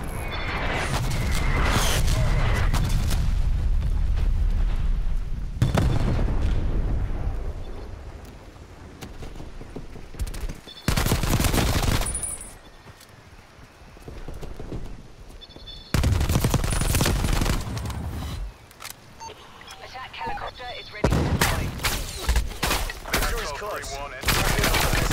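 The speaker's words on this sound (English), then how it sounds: "Artillery inbound." Heavy artillery explosions in Call of Duty: Black Ops Cold War, several loud booming blasts arriving in bursts over rattling gunfire, with brief quieter lulls between strikes.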